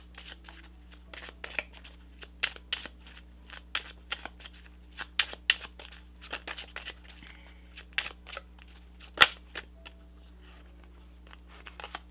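Tarot cards shuffled by hand, giving a long run of quick, crisp riffling snaps and flicks at close range over a low steady hum.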